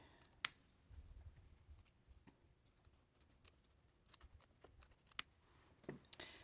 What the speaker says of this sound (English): I'm going to trim our excess fabric. And I'm going to just trim it right up next to the pink